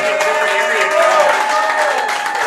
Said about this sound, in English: Biggest round of applause for you guys